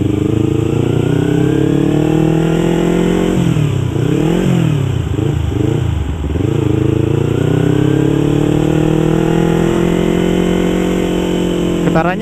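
The two-cylinder engine of a 2015 Yamaha YZF-R25 motorcycle drones steadily while riding, its pitch sweeping up and down as the throttle changes, loud and close throughout.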